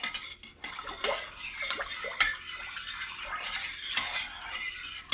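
Metal spoon scraping and clanking against a pot while chicken and potato soup is stirred, with irregular clinks and a wet swishing of liquid throughout, fairly close.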